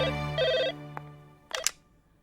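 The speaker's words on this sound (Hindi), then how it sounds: "करण का फोन है" A telephone in the Hindi film Baghban gives one short electronic ring, followed by a soft click and then a couple of sharper clicks like a handset being lifted, with no talk.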